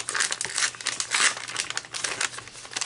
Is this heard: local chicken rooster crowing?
no